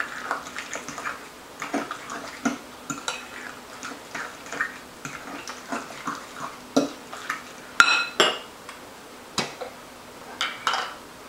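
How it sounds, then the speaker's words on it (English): Guacamole being mixed after fresh lime juice is squeezed in, a series of wet, squelching stirs and soft utensil taps against a bowl, repeated irregularly at close range with no talking. "I'm going to mix that together."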